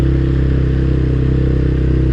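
An ATV engine drones loud and close at a steady throttle while the vehicle rides through a flooded area, a constant low rumble with a faint rhythmic pulse and no talking.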